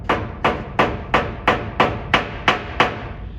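A small ball peen hammer strikes a piece of metal on the edge of an anvil, flattening it. There are eight sharp, evenly spaced blows about every 0.45 seconds, each ringing briefly, with no talking.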